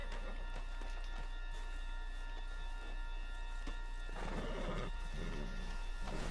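Horse whinnying and hooves clopping in the Red Dead Redemption 2 game, with a louder neigh near the end over steady background ambience and game music.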